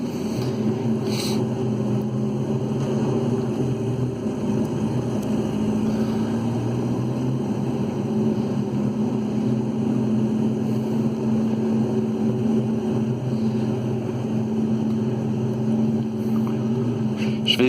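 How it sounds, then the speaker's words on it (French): A tank's engine drones steadily in World of Tanks, a continuous low rumble with a tonal hum holding loud and even for the whole stretch, with no talking. "Ils ont corrigé le bug du son du char qu'il n'y avait plus."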